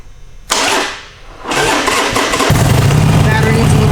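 A 2012 Harley Davidson 883 Sportster with 9,000 miles, a battery low on charge, in cold weather: the starter cranks loudly, strains, then the engine catches and settles into a steady, close, rumbling idle.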